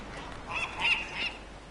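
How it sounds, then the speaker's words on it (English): A bird in the game Dear Esther gives three honking, goose-like calls in quick succession, moderately loud against a soft ambient background with no talking. "Oh, it's a bird."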